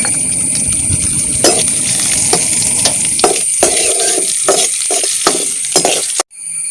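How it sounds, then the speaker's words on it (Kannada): Cashews and raisins fry in ghee in a pan, a steady sizzle broken by repeated stirring scrapes and light metallic clinks, close and fairly loud with no talk. "ಗೋಡನ್ ಮತ್ತು ಒಣದ್ರಾಕ್ಷಿ ಹಾಕಿ ಫ್ರೈ ಮಾಡ್ತಿದ್ದೇನೆ"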